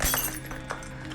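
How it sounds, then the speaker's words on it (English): Glass shatters in a TV episode scene, a sharp crash at the start followed by brief tinkling fragments and clinks fading over about a second. "Yeah, glass."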